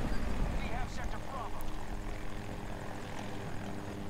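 A helicopter's rotor chops steadily in a continuous engine drone in Battlefield 2042, with faint voices talking beneath the noise.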